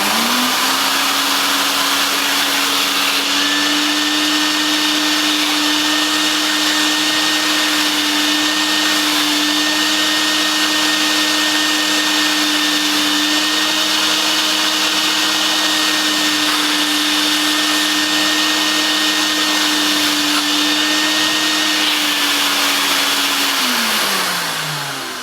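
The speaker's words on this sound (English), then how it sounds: "let's see if the Vax cleaner can actually continue to shampoo with the nozzle considerably higher than the base unit" A Vax 2100 multifunction carpet washer shampoos carpet with its nozzle raised well above the base unit. Its loud, steady motor drone with a high whine holds for about 24 seconds, then winds down sharply.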